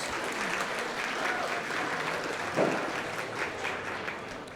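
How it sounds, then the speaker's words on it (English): A crowd at a junior livestock show applauds three intermediate goat exhibitors, a fairly quiet, continuous patter of clapping that holds steady across several seconds. "Let's give these 3 intermediate exhibitors a big round of applause."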